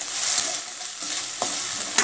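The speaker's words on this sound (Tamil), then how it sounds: "இஞ்சி பூண்டு பேஸ்ட்டு போட போகிறோம் அதையும் போட்டு நல்லா இந்த எண்ணெயிலேயே வதக்கிக்கிறோம்" Ginger garlic paste sautéing in oil in a pan for cauliflower kuzhambu, a loud, continuous close sizzle with a few stirring scrapes and taps, no voices.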